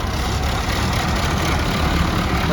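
An HMT 4022 tractor engine running nearby with a steady, rough low rumble that holds constant throughout.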